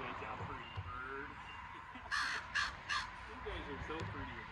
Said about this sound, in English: that's a pretty bird.